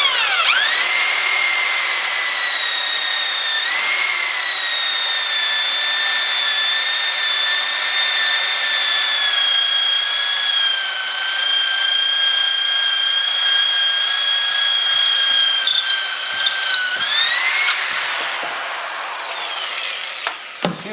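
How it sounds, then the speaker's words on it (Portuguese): Power drill whines continuously at high pitch while boring a hole through a tyre being made into a planter, the motor tone dipping under load at the start and again near the end before stopping with a few clunks. "Então, vamos furar mais uma vez."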